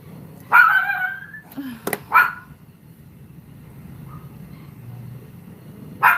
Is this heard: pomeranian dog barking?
yes